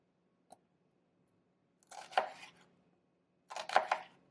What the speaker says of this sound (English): And we're just going to chop our onion.